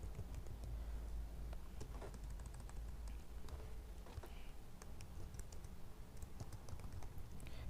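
Steady, rapid tapping of a computer keyboard while a MySQL command is typed, close and fairly quiet, with irregular bursts of keystrokes and no voices.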